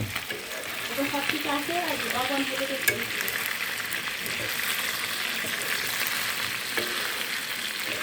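Meat browning in a pan makes a continuous, moderately loud frying sizzle throughout, with a faint voice murmuring briefly underneath early on.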